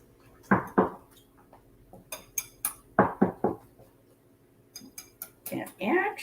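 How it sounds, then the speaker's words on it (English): Dry ingredients are whisked in a bowl, with a run of sharp metal clinks and taps against the side coming in short bursts, close and fairly loud, with a few words spoken between them. "I'm going to take a whisk and put all that together in my bowl"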